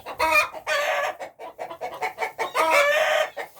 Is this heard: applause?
no